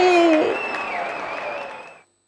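Courtroom applause sound effect from Phoenix Wright: Ace Attorney, a short burst of game clapping layered with tonal chimes that fades after about two seconds, then a brief cut of silence before noise returns.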